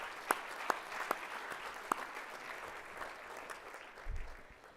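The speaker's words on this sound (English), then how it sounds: "Let's give all of our Skill-a-thon contestants one more round of applause" An audience at a 4-H livestock judging awards ceremony applauds contestants with steady, fairly distant clapping and a few sharper nearby claps.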